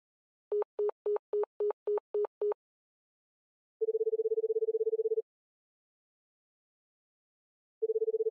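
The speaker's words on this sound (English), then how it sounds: "I guess I'll call the police and tell them about what happened at the bus stop." Telephone dialing in the Amayado Bus Stop video game: eight quick, evenly spaced dial tones, then two long ringback tones separated by a gap of silence, clean and close with no talk.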